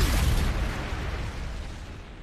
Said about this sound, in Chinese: 仪器为什么爆炸了？